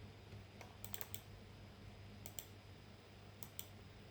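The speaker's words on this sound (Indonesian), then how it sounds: "Lalu kita ketik di sini itu" A computer keyboard being typed on in short bursts of quick clicks, with pauses in between, fairly close and alone with no talking.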